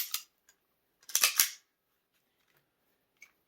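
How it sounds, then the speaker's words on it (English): The slide of a Sig Arms P230 pistol is racked in a tabletop check, giving a few sharp metallic clicks and a quick clacking cluster near the mic, then quiet with one faint tick. "Go ahead and put that back into position. Rack your gun."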